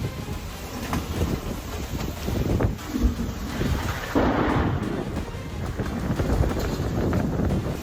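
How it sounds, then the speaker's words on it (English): A fierce storm sweeps across rural Texas: heavy wind roars and buffets the microphone, with low rumbling thunder and rain-like noise, all loud and continuous with no speech. "A fierce storm swept across rural Texas, hurling objects into the air and causing widespread power outages."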